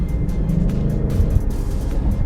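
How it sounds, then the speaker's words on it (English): Ford Mustang with active exhaust set to quiet mode and a Steeda X-pipe fitted, giving a steady low engine rumble at idle with no voices. "If I just now change my active exhaust to quiet and do the same,"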